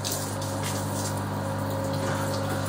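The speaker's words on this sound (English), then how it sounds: "Just going to pump off so I don't waste any" A homebrewing pump moves liquid off steadily, a constant mechanical hum with a low tonal drone and a faint watery rush throughout, close and alone.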